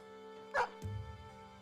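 A dog in the video game Battle Brothers gives a single short, sharp bark, followed by a low growling tail against a quiet hum of background music.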